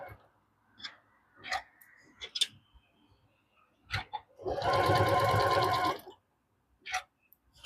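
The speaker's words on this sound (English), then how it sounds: "so we're going to sew corner to corner on this side" A sewing machine stitches corner to corner across a quilt block, running in one loud, close burst of about a second and a half, framed by scattered small clicks and handling taps.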